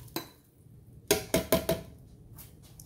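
A 28-ounce can of diced tomatoes is emptied into a pot of beef neckbone soup, giving a quick run of four sharp metallic knocks and clanks after a single earlier tap, close and fairly quiet.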